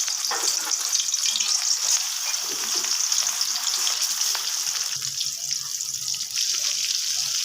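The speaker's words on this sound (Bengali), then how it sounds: "মাছটা হালকা ভাজা হলে এখন আমি উল্টে দিব" Spiced rohu fish pieces fry in hot oil in a pan, a loud, continuous, close sizzle with fine popping throughout and occasional lighter crackles.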